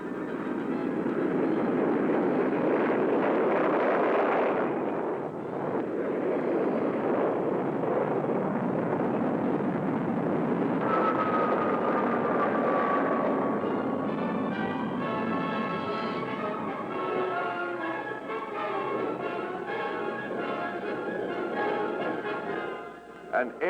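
Air Guard military planes fly in a continuous loud roar and rumble that swells and then shifts to a higher whine, steady throughout with no break.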